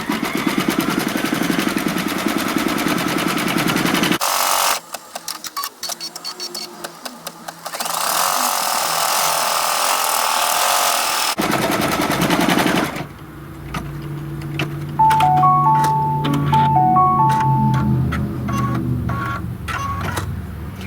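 A sewing machine runs through rapid bursts of stitching, sewing a placement line for a pie-slice appliqué on a flat towel, with loud mechanical chatter stopping and starting several times.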